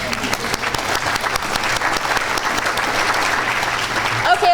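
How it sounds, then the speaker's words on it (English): An audience at a World Environment Day gathering in Portland, Oregon applauds itself, dense steady clapping filling the room at an even level, with a few louder claps near the end. "give yourselves a round of applause."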